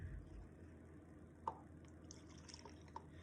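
Water trickles faintly into a 16-ounce spray bottle being topped up for homemade cleaner, with a couple of soft drips and a light splash in an otherwise quiet room.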